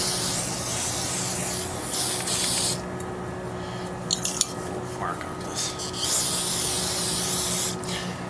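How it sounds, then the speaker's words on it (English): Aerosol spray can blasting cleaner onto dirty carburetor floats from a 1984 IT490 motorcycle, a loud close hiss in bursts, with brief talk partway through. "I should spray them down again."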